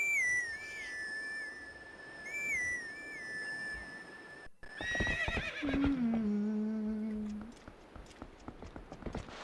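A horse in a Zelda video game whinnies loudly several times in rising and falling tones, with clip-clop hooves and a few whistle-like game sounds mixed in.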